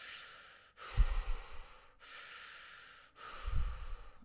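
Guided meditation breathing, close airy inhales and exhales alternating in a steady rhythm, each breath a soft rushing sweep with low puffs at the starts of exhales, no talking.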